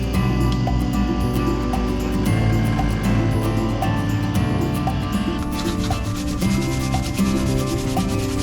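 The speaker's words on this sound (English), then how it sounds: "So let's take this over to the grinder and see what we can do." A bench grinder sands a wooden woodworker's compass, giving a steady, loud abrasive rubbing that runs unbroken throughout with no talking.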